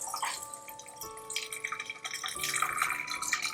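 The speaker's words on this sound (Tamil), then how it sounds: "புளி கரைச்சது இது பாரு, இதோட ஊத்துறேன் பாரு." Dissolved tamarind water poured from a vessel into a pot while making kollu (horse gram) rasam, a close, continuous splashing trickle with drips that grows fuller and louder toward the end.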